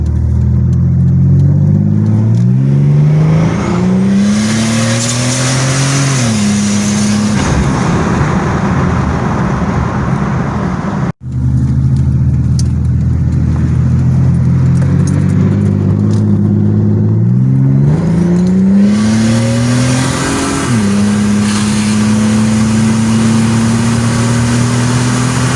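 1999 Buick Regal GS Turbo with a 3-inch pipe into dual 3-inch straight pipes, revving loudly up and down twice, with a brief cut between the runs, close and raw.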